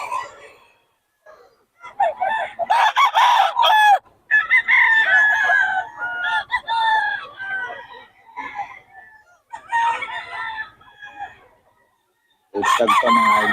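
A blue stag gamefowl rooster crows at a farm, several loud drawn-out crows separated by short pauses, with clucking and someone talking in between.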